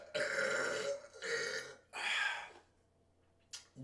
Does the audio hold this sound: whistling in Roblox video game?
no